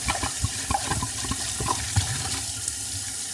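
Water running out of a rinsed hookah base, a steady splashing gush with small irregular gurgles and spatters, close and fairly loud.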